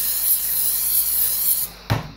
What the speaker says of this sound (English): I'm gonna hit a little bit of spray.